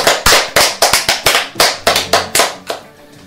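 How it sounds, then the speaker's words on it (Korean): One person claps hands sharply and close up, about a dozen crisp, evenly spaced claps in a quick steady rhythm before stopping. "박수!"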